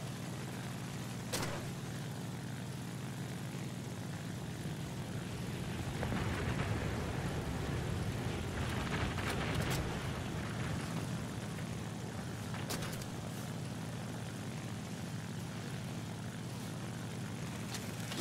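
A propeller plane's engine drones steadily in War Thunder, a continuous roar that swells briefly mid-flight, with a few sharp clicks or bursts scattered over it.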